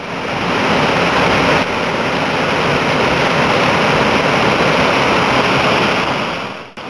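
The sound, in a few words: Bolo waterfall in Lobéké National Park, Cameroon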